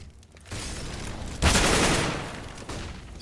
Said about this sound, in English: Deadfox eats a headshot, but will return with an AWP shot